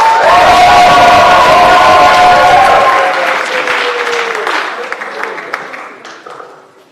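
At a startup competition final, a large crowd cheers and whoops loudly alongside dense applause, a roaring wave that holds strong for a few seconds, then gradually thins and fades away.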